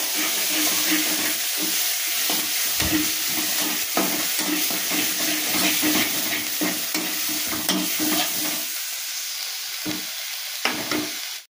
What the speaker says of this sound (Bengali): এবার আমি এটা গরম তেলের উপর দিয়ে নেড়ে নেব। তেলের উপর দিয়ে দিলাম লাউ পাতাটা।